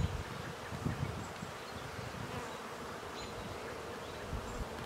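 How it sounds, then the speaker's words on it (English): Dense, steady buzzing of honey bees crowded on hive frames during an inspection, a continuous droning swarm close by with no talking. "It looks like all these frames are kind of packed out with bees."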